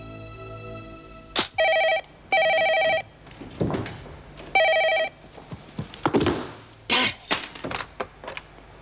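An old-style telephone bell rings in repeated short bursts indoors, interspersed with thuds and handling noises, fairly close and clear.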